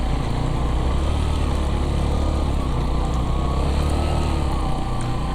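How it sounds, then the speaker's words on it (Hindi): Motorbikes climb a steep, rough mountain road in Neelam Valley, Azad Kashmir, their engines a steady, close, droning hum that holds an even level without pause and with no talking. "रोड जो है वो देखे ना कैसे ऊपर जा रही हैं बाइक्स"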